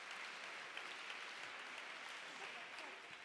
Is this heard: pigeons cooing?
no